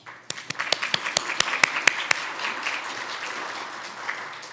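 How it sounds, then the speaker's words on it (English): At an Alaska Native health consortium annual meeting, a few sharp, close claps ring out in a quick regular rhythm before spreading into softer, scattered audience applause. "Director Kagilik is giving you applause already."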